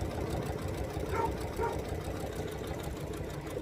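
A sewing machine stitching quilt fabric hums and rattles at a steady, even pace close by, continuous throughout with no pauses.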